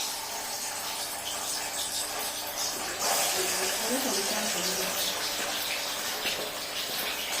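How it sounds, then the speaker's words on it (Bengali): A continuous hissing sizzle of paneer frying in hot oil, growing louder midway, with faint talk in the background. "তেল গরম হয়ে গেছে, পনিরটা আমি ভেজে নিচ্ছি।"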